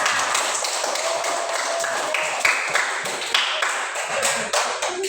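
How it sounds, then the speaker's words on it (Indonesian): A group claps steadily to applaud group 2 after their presentation. The dense, close clapping runs for about five seconds with small bursts and scattered taps, and no voices come through. "tepuk tangan untuk kelompok 2"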